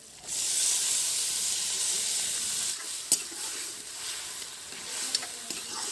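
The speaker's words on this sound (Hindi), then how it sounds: "अब मेथी बने भुंजा गए है तो एमा टमाटर डाल देता हूँ।" Chopped tomatoes hit a pan of fried fenugreek seeds, setting off a loud, steady hiss of frying with a few sharp clicks of stirring, and no voices.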